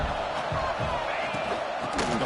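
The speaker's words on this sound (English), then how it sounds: "And here comes the noise. This crowd is trying to inspire this defense to make a big red zone stop." A football stadium crowd at an Oregon vs Alabama game roars steadily and loudly throughout, a dense sustained wall of cheering meant to fire up the defense before a red zone stop.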